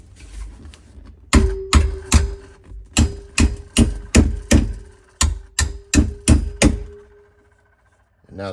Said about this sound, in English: And then you can get a hammer and kind of finish